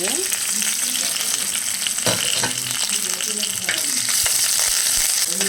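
Dried red chillies and curry leaves fry in hot oil with a loud, continuous sizzle and crackle, broken by spitting pops and the scrape of stirring.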